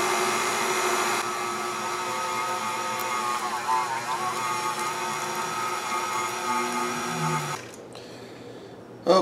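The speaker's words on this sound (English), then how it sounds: "so we ended up grinding up some pork" An electric meat grinder grinds fatty pork for homemade sausage, a loud, steady motor whine with a slight wavering strain that runs for several seconds before switching off.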